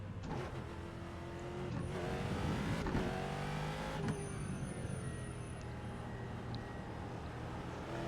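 A Ford GT race car engine in the iRacing sim at Oulton Park revs and shifts through gears, rising and falling pitch sweeps over a steady mechanical drone, with other cars faintly audible.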